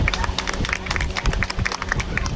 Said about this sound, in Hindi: तो उनके लिए सभी बच्चे जोर से तालियां बजाएंगे